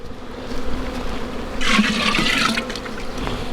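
Liquid poured out of a container while measuring litres of a bee-feeding preparation, a short gurgling splash burst in the middle over a low steady background hum.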